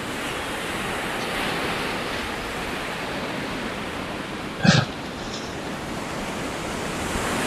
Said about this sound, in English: at the rolling waters of the ocean, and the surf rolling in and out